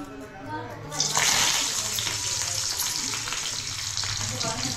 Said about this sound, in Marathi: आता त्यात टाकते लसूण आणि कढीपत्ता